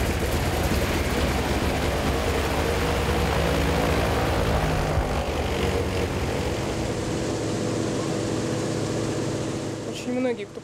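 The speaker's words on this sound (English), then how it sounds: "Up to now, they've always got the old Soviet plane going again." An old Soviet propeller plane's engine runs loud and steady at an airstrip, a continuous droning roar throughout that eases slightly near the end.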